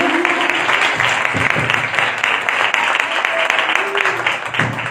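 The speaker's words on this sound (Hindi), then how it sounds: "हम अपनी खुशी का इजहार करेंगे और इसी खुशी के इजहार में जोरदार तालियों में कराने खुदा को वेलकम करेंगे।" A church congregation applauds loudly in welcome, dense continuous clapping filling the room for the whole stretch, with faint voices mixed underneath.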